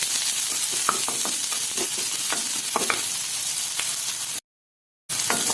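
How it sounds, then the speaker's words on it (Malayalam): Ginger, green chili and onion sauté in a pan with a steady broadband sizzle and scattered spatula scrapes and stirs, close and fairly loud, broken by a brief silent gap near the end. "നന്നായിട്ട് ഇഞ്ചിയും പച്ചമുളകൊക്കെ വഴറ്റിട്ടുണ്ട്. സവാള ഒന്ന് കുറച്ച് വഴങ്ങാറുണ്ട്."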